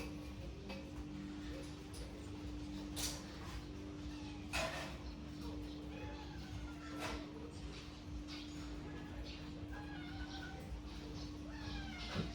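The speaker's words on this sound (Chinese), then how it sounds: "你看这小猫咪，看到小家伙们吃了，它也急了，它也想吃了。" A kitten meows repeatedly and insistently for food while other cats are being fed canned food nearby, its calls rising over a steady low hum and faint rustling.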